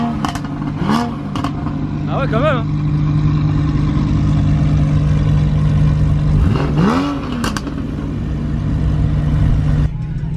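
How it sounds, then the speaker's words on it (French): A naturally aspirated 325-horsepower flat-six car engine idles, then revs and pulls hard, close and loud, while people talk inside the car. "Elle accélère fort et tu m'as surpris déjà même en termes d'accélération."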